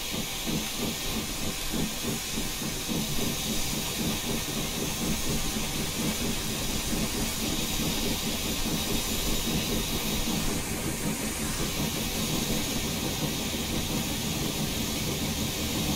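A steam locomotive in a train simulation game, running without an automatic fireman, gives off a loud, steady hiss of escaping steam over a low, rumbling engine churn that continues unbroken throughout.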